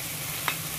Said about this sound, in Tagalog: ito na ang ating chicken. Ayan, haluin lang natin to.